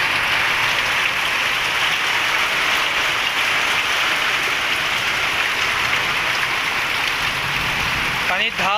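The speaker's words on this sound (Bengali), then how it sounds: "একদম ঘন বৃষ্টি হয়েছে। দেখেন অবস্থা কিভাবে পানি পড়তেছে ঘন হইয়া।" Dense, heavy rain pours down steadily during a village storm, a continuous loud roar of water with no break, and a faint click near the end.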